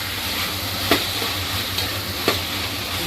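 Tomatoes sautéing in a pan, a steady close sizzle and hiss with a couple of faint stirring scrapes and no talking.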